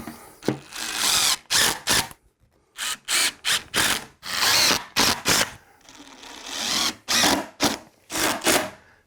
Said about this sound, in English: And now we'll screw this together.